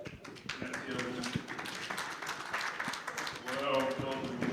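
Audience applauding at a press conference for an album launch, a dense patter of clapping rising louder toward the end, mixed with voices talking over it.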